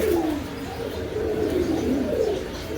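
Lahori pigeon giving a close, soft, rolling coo that wavers up and down, repeated in one continuous run.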